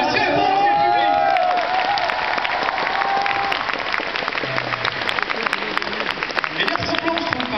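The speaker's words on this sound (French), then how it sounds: "On applaudit Sarah, mesdames, messieurs." An audience at Japan Expo applauds Sarah, a dense, steady wash of clapping from a sizable crowd that carries on throughout, with a few voices and a brief tone audible under it at the start.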